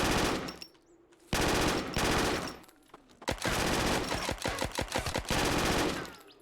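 Loud gunfire from a gun in the video game Zero Sievert: long dense automatic bursts broken by short pauses, then a run of rapid distinct shots before another sustained burst.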